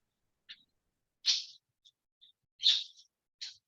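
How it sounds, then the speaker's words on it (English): Pet birds in a room chirp in short, sharp, high bursts, about six separate calls spaced irregularly against near silence, close by and moderately loud, with no talking. "Can you guys hear my birds?"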